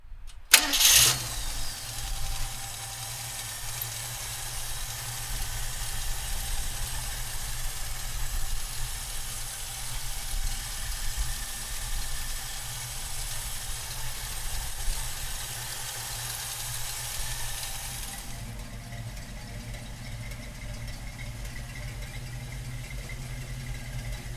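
A 1974 Ford Bronco engine cranks and catches, then idles with a steady, rumbling note that goes on for some twenty seconds and eases slightly near the end.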